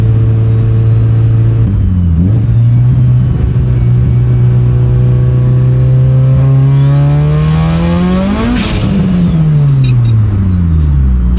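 A 700whp Mitsubishi Evo 8 accelerates hard, its loud engine drone climbing through a gear change and then surging to a high rev peak before easing off, close and continuous.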